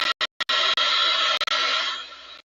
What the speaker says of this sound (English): It needs to dry just a little bit, but oh, no worries. I have my heat gun right here.